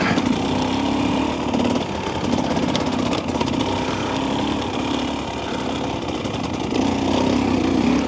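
A 2025 Husqvarna TE300 dirt bike engine lugging at low revs, a steady, loud, close drone with a low throbbing pulse that swells slightly in places and runs throughout without talk.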